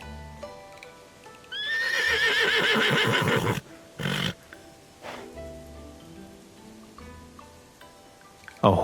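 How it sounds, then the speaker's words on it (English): A horse in the video game Love and Deepspace gives one loud, close whinny with a quavering pitch sweep, followed by short snorts and scattered hoof clops over faint rain. "A horse like this shouldn't be kept as some ornament for a tavern owner."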